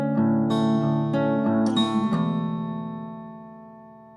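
An acoustic guitar plays a picking pattern, with chords ringing out and slides up the neck, sustaining clearly before decaying into a fading final chord.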